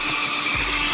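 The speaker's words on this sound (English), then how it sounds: "So we're gonna vacuum that out." A vacuum cleaner roars steadily close up while sucking dirty, crumbling insulation out of a 2007 Audi A4, a loud continuous whine with a brief dip in pitch.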